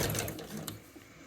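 Piping is stitched onto a cushion cover by a sewing machine, a brief, close whirring run that fades slightly toward the end.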